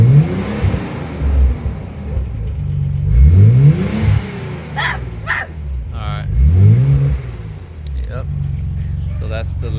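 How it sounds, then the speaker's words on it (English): A 1993 Nissan twin turbo Z with a Labrie Specialty exhaust, catalytic converters and mid-pipe resonators, revved in three loud, close rising-and-falling bursts, with people talking over and between the revs. "That's the Labrie Specialty Z exhaust."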